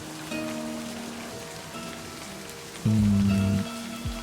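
Steady rain falls on surfaces in the video game Livber: Smoke and Mirrors, a continuous soft patter heard alone, with tonal game music layered over it and a louder swell near the end.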